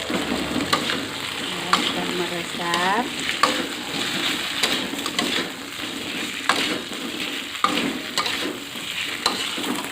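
Fish frying in hot oil with galangal, giving a steady loud sizzle with bursts of crackle and occasional stirring clatter throughout, while a voice speaks briefly.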